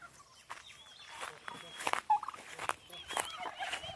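Turkeys and chickens are herded home in a rural yard, giving scattered gobbles and clucks at close to moderate range, faint and intermittent, with a person calling out to drive them along.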